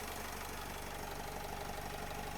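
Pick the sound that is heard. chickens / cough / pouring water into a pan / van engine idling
van engine idling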